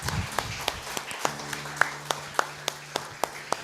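A church congregation claps in praise, a sparse run of distinct single claps roughly evenly spaced over a low background with a brief voice at the start and a sustained organ-like tone underneath.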